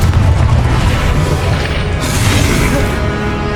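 Loud, dense blasting explosion from the Confringo spell in Hogwarts Legacy, a sustained roaring boom that fills the whole clip with no voices.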